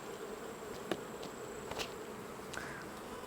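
Honey bees buzz at an open hive during an Apiguard treatment, a soft continuous hum with a few individual bees zipping close by in brief louder passes.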